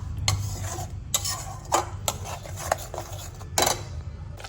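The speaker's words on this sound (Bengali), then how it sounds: "এবার সবগুলো মশলাকে ভালো করে মিক্স করে নেব গ্রেভিটাতে" Spices are stirred into a homemade pizza sauce in a pan, making a spoon scrape and clink against the pan in irregular strokes over a faint low hum. No voices are heard.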